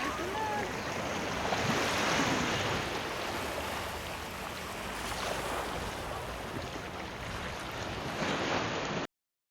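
Surf breaking on Eagle Beach in Aruba, a steady broadband wash of waves with wind buffeting the microphone, loud and continuous throughout.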